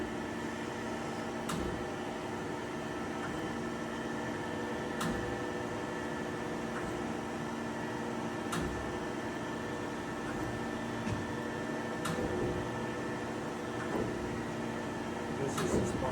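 A Chevalier FSG-1228AD automatic surface grinder making a spark-out cut, a quiet steady mechanical hum and whir with faint periodic ticks recurring every few seconds.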